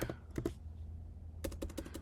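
Typing on a computer keyboard to enter a logout command over SSH, quick close key clicks in two clusters separated by a short pause, quiet and alone.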